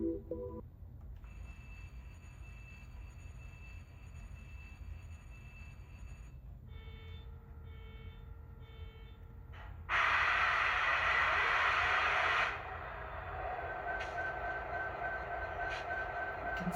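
A DT&I model diesel locomotive fitted with a Tsunami 2 sound decoder and a Scale Sound speaker idles with a steady low rumble, then gives a loud horn blast for a couple of seconds before settling back to its engine drone.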